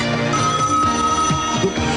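An animatronic comedy robot on a call-in show mimics a telephone ringing, a steady, loud electronic trill with repeated pulses filling the whole moment, no talk over it.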